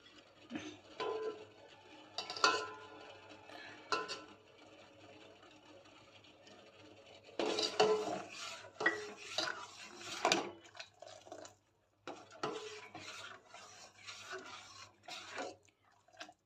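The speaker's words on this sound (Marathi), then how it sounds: "मी असंच हे चमच्यानं काढून घेणार आहे" A spoon skims scum off bubbling sugar syrup in a pan for rava ladoo, making intermittent soft scrapes and clinks against the metal in short bursts separated by quiet pauses.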